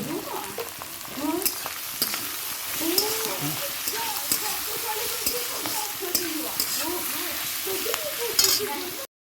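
Onions frying in a pan with sugar and salt added, a steady busy sizzle with stirring scrapes throughout, moderately close, with a voice speaking over it.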